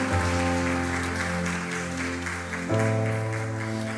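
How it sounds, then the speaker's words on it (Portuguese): A church congregation applauds under sustained held keyboard or organ chords, the clapping a steady broadband patter mixed beneath the music, which shifts to a new chord near the end. "E quantos querem pode glorificar e aplaudir o Senhor Jesus?"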